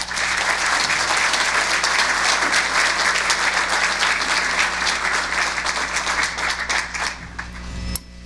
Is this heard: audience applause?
yes